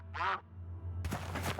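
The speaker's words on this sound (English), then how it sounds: "That was a duck." A duck quacks once, short and nasal, in the video game Surviving the Aftermath, followed by a burst of broadband in-game noise.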